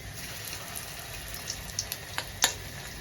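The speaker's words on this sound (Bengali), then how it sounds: "অল্প অল্প করে ডালের বড়াগুলো ভাজা হোক" Ground urad dal fritters (bora) fry in gently heated oil with a steady, quiet sizzle, broken by a few soft pops and crackles near the end.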